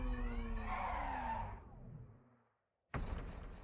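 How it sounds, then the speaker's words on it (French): A Honda Civic in the video game Mullet Mad Jack, a loud engine roar with skidding and a whooshing rush that fades to a brief silence before the game sound bursts back in. "Vroom vroom. Ma Honda Civic."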